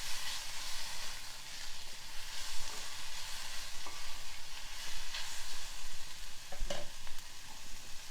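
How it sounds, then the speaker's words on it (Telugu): Chopped tomatoes with a pinch of salt cook in a pan with a steady, close sizzle and hiss, while occasional scraping stirs and a few light clinks sound over the frying. "ఇలా మధ్య మధ్యలో కలుపుతూ మూత పెట్టేసి టమాటో మెత్తబడే వరకు ఉడికించుకోవాలి."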